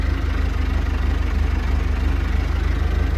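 A Massey Ferguson 1250 tractor engine runs steadily in gear, a low, even throb with a faint hum over it, close and continuous for the whole stretch.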